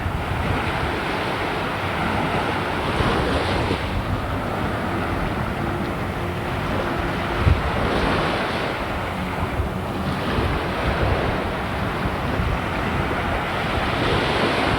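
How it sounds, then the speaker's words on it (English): Small waves only a few inches high washing onto a Bahamas beach, a continuous surging wash with gentle swells, heavily buffeted by wind noise across the microphone. "There's the beach. The waves are all maybe 3 or 4 inches high."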